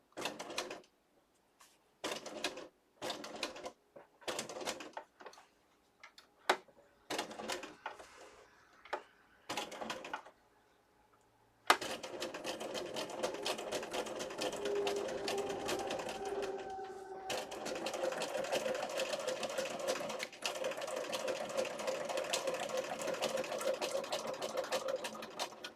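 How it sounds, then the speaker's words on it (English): A sewing machine stitches through paper in short bursts with pauses between, including a couple of back stitches, then runs in a longer steady whirring stretch, close and moderately loud. "I am doing a couple back stitches"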